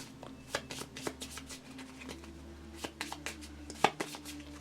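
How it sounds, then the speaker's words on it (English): A deck of cards is shuffled by hand at a tabletop game of Marvel Champions, several quick riffling bursts and soft clicks up close over a low room hum. "I'm going to have to shuffle these first"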